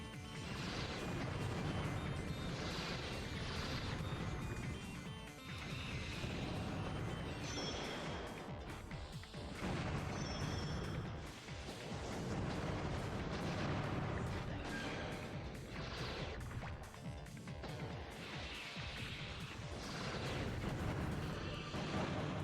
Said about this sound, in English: Those Hornet missiles are kind of annoying there.